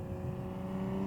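2020 Toyota Supra engine droning steadily while driving, a close, sustained hum heard from inside the car with no talk.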